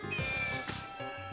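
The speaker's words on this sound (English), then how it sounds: "Is that another cat?" A cat meows in the video game Phantasy Star 0, a short mewing call over a bed of game music with a faint tonal whine, followed by a second softer mew.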